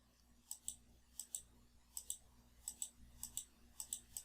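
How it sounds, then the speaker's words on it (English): Faint, crisp computer mouse clicks on an Add Experience Points button in a program's interface, arriving mostly in quick pairs at a steady pace, several rounds in a row with nothing else audible. "click the Add Experience Points button"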